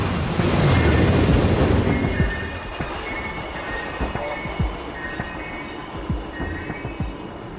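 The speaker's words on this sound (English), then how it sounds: "We've developed the maglev with a top speed of 500 kilometers an hour for commercial use." A high-speed maglev train sweeps by with a loud whooshing rush that fades into a steady hum, punctuated by regular faint clicks and thumps.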